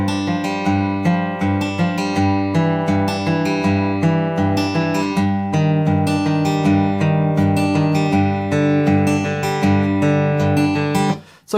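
Acoustic-style guitar picking the intro of a song, a steady, ringing fingerpicked pattern of bass notes and chords, loud and close, with no talk, stopping abruptly at the end.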